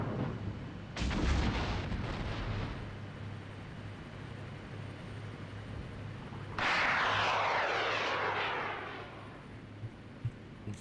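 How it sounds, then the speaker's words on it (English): Combat in the Cold War tank game Armored Brigade 2, where a helicopter enters the fight: a heavy artillery blast rumbles early, then a loud aircraft-like engine roar swells midway and fades, with no voices. "Once our helicopter is about to enter the fray."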